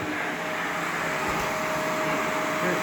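Shark Rotator NV501 upright vacuum cleaner running with its brush roll on, a steady close whooshing motor drone with a faint tonal whine and no talking.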